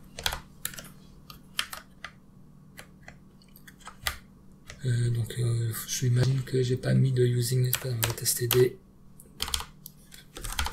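Rapid clicking keystrokes on a computer keyboard come in bursts during live C++ coding, close and crisp, while someone speaks French over the typing in the middle stretch.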